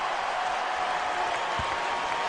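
A basketball arena crowd roars on its feet for Kobe's career-high night, a dense, steady wash of cheering and applause heard from a distance.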